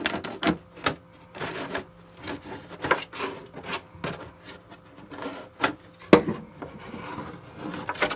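A sharp knife cutting around a plastic container to make a mini greenhouse for winter sowing, producing a run of close, irregular scraping and crunching strokes and snaps with no talking.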